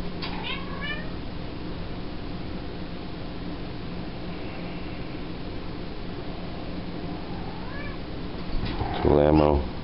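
House cat meows a few times indoors, a short call near the start and more toward the end, over steady fan-like background noise.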